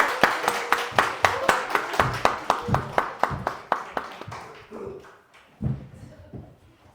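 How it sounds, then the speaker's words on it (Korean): A church congregation claps for children as they bow and head back in, a burst of applause with sharp individual claps that thins out and fades, ending in a few scattered claps and faint murmurs. "우리 시간 아이들 차렷 인사하고 들어갈 때 큰 박수 부탁드리겠습니다"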